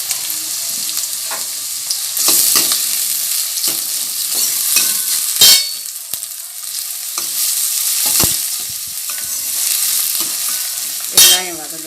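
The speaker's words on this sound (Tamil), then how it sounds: "எண்ணெய் காஞ்சிட்டு வெங்காயத்தை போட்டு கருவேப்பிலையும் சேர்த்துக்கலாம்." Sliced onions and curry leaves fry in hot oil for an egg curry, with a continuous crackling sizzle and occasional scrapes and knocks of a stirring spoon against the pan.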